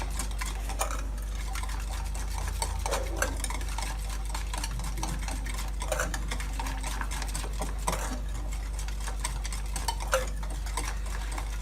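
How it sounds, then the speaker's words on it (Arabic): Chocolate cake batter with a glass of milk mixed in is stirred continuously, a steady soft scraping and sloshing with faint ticking clicks throughout, no voices. "دابا غادي نزيد كاس ديال الحليب، نستمر التحريك."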